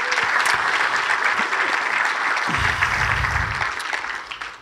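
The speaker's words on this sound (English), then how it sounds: "Let's give these three a round of applause." Sustained applause from an audience at a pickleball Hall of Fame induction ceremony, a dense steady wash of clapping that carries through and tapers slightly at the end, with a low murmur partway through.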